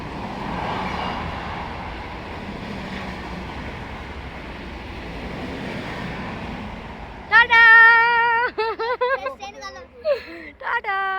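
A train at Galsi railway station gives a steady broad rumble for several seconds, then close voices, including a child's, talk over the fading background noise.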